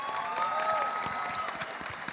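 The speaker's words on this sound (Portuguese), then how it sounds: "Salve de palmas!" Audience applause at a book fair, a steady wash of clapping from a crowd with a sustained tonal hum running through it, moderately loud and continuous for a couple of seconds.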